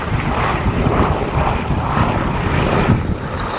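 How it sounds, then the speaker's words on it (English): A B-17 bomber flies over an airshow at RAF Honington, its piston engines giving a steady, fairly loud droning roar that holds throughout with slight swells. "Sally B is actually the only airworthy B-17 in the United Kingdom"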